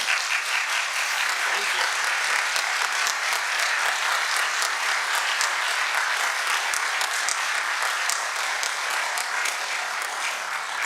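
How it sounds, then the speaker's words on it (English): An audience at a mayoral election debate in Antigonish applauds after a candidate's closing speech, a long, even wash of clapping that holds steady throughout with no talk. "You were very patient with that clapping."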